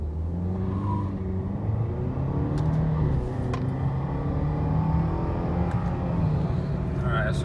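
A 2013 Audi A4 Premium turbo in sport mode accelerates hard from a dead stop, its engine note rising steadily and loud and close throughout, with tire and road noise underneath and a voice heard faintly in the cabin.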